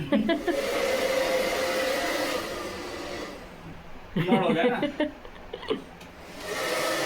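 A hair dryer blows dust out of an air conditioner during summer cleaning, a steady loud whooshing for about three seconds that then cuts off, followed by people talking nearby.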